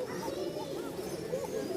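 A pair of highflyer pigeons, a breeding male and female, coo in low, rolling phrases close by, mixed with someone speaking in the background.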